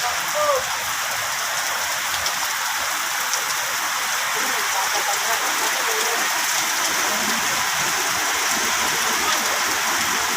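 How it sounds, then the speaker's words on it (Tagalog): Heavy rain pours down during a 21K marathon on a highway, a loud, dense, continuous hiss of drops hitting the road and surroundings, steady from start to finish. "Grabe ka kusog ang ulan."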